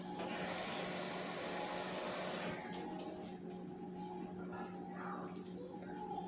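Water poured into a hot pan to steam salmon gives a loud, steady hissing sizzle that cuts off sharply partway through, leaving a quieter simmering hiss.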